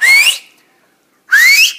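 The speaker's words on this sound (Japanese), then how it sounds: "指笛も自在にできますからね" Two loud, shrill finger whistles, each rising in pitch, are separated by a short silence and sound close and piercing, outdoors in a forest in Okinawa.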